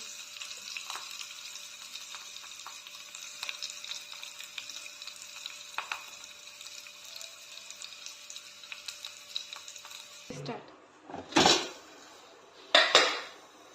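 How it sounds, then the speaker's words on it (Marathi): Mustard seeds tempering in hot oil for moong dal dhokla, a steady close sizzle with faint crackles, then loud metallic clanks of a utensil against a pot near the end. "मोहरी टाकतो"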